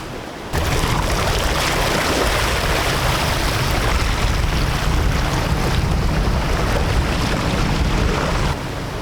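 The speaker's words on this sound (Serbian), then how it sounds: "Izleću talasi." Ocean waves surge and crash on a Gold Coast beach at the Spit in Australia, a loud continuous roar of surf with heavy wind noise on the microphone, no voices heard.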